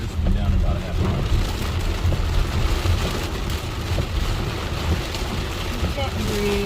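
Very heavy thunderstorm rain pours down in Illinois, a loud, continuous, close roar of wash and spatter, with people talking under it.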